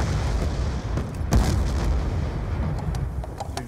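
Grenade launcher blasts from the War Machine in Black Ops II: a dense, rumbling barrage of booms with one sharp, loud burst near the middle, then lingering low-end roar.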